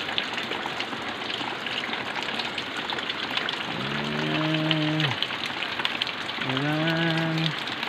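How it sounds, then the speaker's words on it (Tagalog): Heavy rain falls steadily on a Sunday morning as a constant loud hiss throughout, with two brief tonal sounds rising over the downpour partway through. "bumuhukang ulan itong linggo ng umaga"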